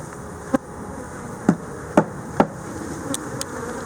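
A steady drone of buzzing honeybees from a hive fills the background, punctuated by several sharp wooden knocks at irregular intervals as bees are banged into the hive.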